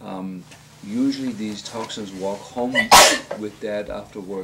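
One sharp, loud sneeze bursts out in the middle of steady nearby speech, which carries on right after it.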